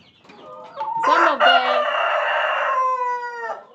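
A nearby chicken on a poultry farm lets out a loud, drawn-out squawking call, rising and holding for a couple of seconds before trailing off.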